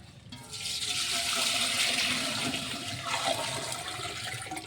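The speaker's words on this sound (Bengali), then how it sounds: "পানিটা ঢেলে দেবো এখনই" Water pours in a steady rushing stream into a cooking pot set on a stove for biryani rice, continuous and close for several seconds before easing slightly, with no voices.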